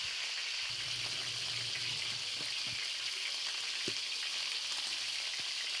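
Chicken browning on its second side in a pan, a steady bright sizzle of frying oil with occasional soft pops and spatters, close and continuous with no talk.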